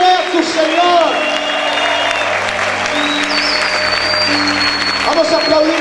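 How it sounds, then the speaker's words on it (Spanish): Church congregation applauding, a dense continuous wash of clapping with a preacher's voice rising briefly over it near the start and end. "Aplaude a tu Señor."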